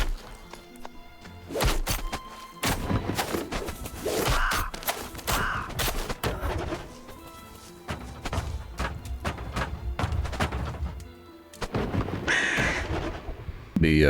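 Crows caw amid combat in the video game Darkhaven, harsh repeated calls mixed with thumps, whacks and bursts of fighting noise over several seconds, with some voice underneath.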